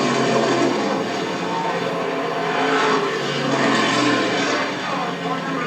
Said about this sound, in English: It really sounds strong as it comes by us here in the booth.